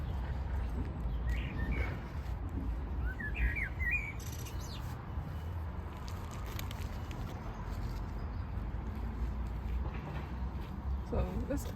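Birds chirp and sing in a garden during light weeding, small bright calls scattered through the first few seconds over steady low outdoor noise, with occasional voices in the background.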